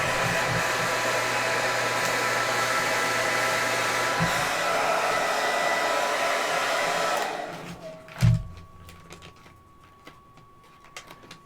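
Close old hair dryer blows with a steady airy whine, then switches off and winds down, leaving a brief clunk and quiet ticking.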